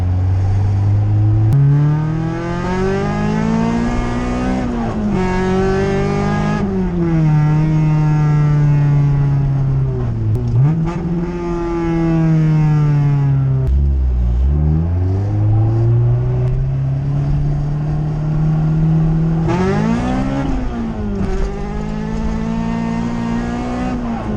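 A loud Honda CRX engine revs and accelerates repeatedly, pitch climbing and falling through several gear changes with VTEC pulls, running continuously without any talking.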